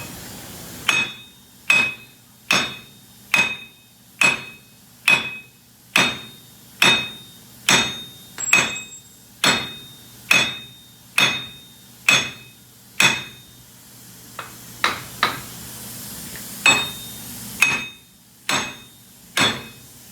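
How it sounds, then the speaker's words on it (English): Air chisel hammers at a Chevy Silverado steering knuckle during a 2002-2009 wheel bearing and hub replacement, firing about eighteen sharp, evenly spaced metallic blows with ringing overtones, loud and close, with no talking. "I don't want to gouge the steering knuckle with an air chisel."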